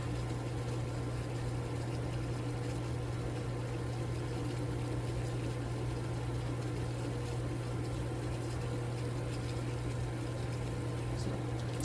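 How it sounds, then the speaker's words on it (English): Water at a rolling boil in a pot over an alcohol backpacking stove, a steady continuous rush and low hum with no pauses or distinct bubbles standing out. "So we've essentially got a full boil going now."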